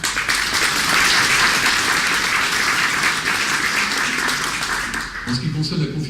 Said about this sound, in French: on pourrait l'applaudir à l'occasion